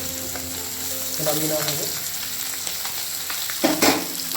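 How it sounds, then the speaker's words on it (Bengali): Small puti fish frying in a pan of hot oil give a steady, close sizzle, with a few sharper crackles and stirring scrapes, and a brief spoken phrase partway through. "পুঁটি মাছটা ভাজা হওয়ার পথে"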